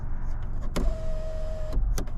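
A 2023 Subaru's power sunroof whirs open with a steady electric motor drone lasting about a second, framed by soft clunks as it starts and stops, close-up inside the cabin with no talking.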